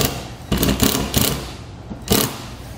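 A power driver drives screws through a plastic MaxxFan Deluxe roof vent flange into the frame, whirring in several short close bursts separated by pauses.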